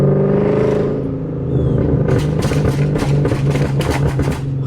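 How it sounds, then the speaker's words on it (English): A 2013-2014 Ford Mustang GT V8 rumbles, then rips out a rapid string of sharp exhaust backfire pops, about ten loud cracks in quick succession over the engine's drone, close and with no talk. "Just listen to how loud these backfires are."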